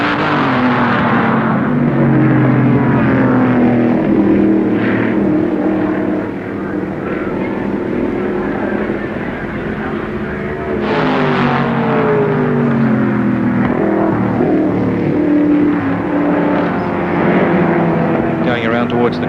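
Improved production touring cars and sports sedans racing at Warwick Farm in 1973, their engines a continuous droning rumble beneath loud, steady commentary.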